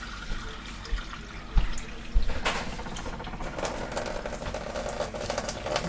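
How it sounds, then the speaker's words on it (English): Filtered water poured into a jar for a sourdough starter, a steady close splashing trickle with a couple of clunks near the start. "And we're going to add a cup of water. My filtered water is what we're going to add."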